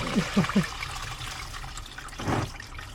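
Water drains out of a Volkswagen Golf 1 engine, a steady trickling and splashing flow heard close by with a few low gurgles, under faint background voices.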